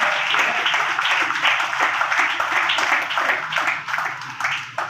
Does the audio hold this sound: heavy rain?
no